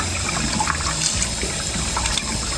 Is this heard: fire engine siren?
no